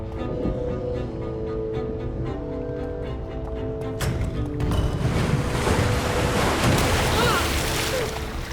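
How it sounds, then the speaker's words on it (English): Rushing water from waterfalls released by pressure plates in Minecraft: Story Mode, a steady broadband wash that swells louder about halfway through, over a background of low sustained music tones. "Those pressure plates release waterfalls upstairs."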